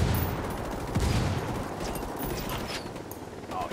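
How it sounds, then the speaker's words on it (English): Gunfire in the tactical shooter game Ghost Recon, a dense rumbling fusillade of rapid shots rolling continuously, with a few sharper cracks standing out, steady and moderately loud throughout. "I'm getting shot at"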